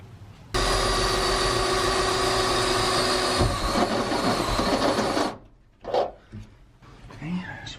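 A drill bores a hole through wood for a platform bed in a Sprinter van conversion, a steady loud whine for about five seconds that then stops, followed by short bumps and handling noises.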